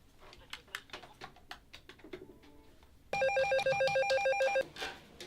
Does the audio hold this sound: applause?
no